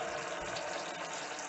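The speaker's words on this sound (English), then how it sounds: "While that's filling with water" Water runs steadily from a tap into a cooking pot in a kitchen, a continuous close, loud gushing fill with no talk over it.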